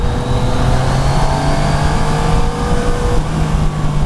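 Yamaha Niken three-wheeled motorcycle riding on the road in Norway, a loud, steady engine drone with sustained tonal hum and heavy wind rush, holding a constant pace throughout with no talk.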